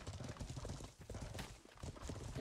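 Horses galloping in a video game, a quick drumming of hooves with a faint whinny in the mix, busy and continuous, with a voice briefly underneath.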